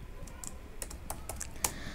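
Rapid keyboard typing while writing React code, a scattered run of light clicks and key taps at close range with a soft background hiss, no talking.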